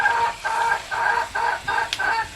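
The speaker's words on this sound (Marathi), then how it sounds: "कोंबडीचं बॅकग्राऊंड म्युझिक." Chickens clucking nearby in a village home yard, a rhythmic series of about six repeated clucks in quick succession, fairly faint, with no talk over them.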